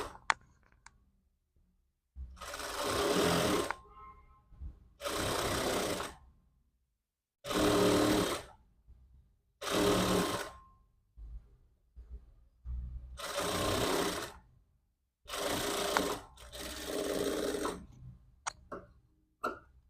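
Sewing machine stitching a back-open princess-model jacket, running in seven steady bursts of one to two seconds each, separated by short silent pauses, fairly loud and close with no talk.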